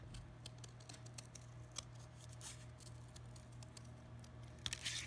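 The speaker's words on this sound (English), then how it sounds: "I'm going to use my scissors to cut it out" Quiet, repeated snipping of scissors cutting a heart shape out of paper, soft irregular clicks over a faint steady hum.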